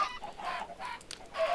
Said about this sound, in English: there's no need for this many chickens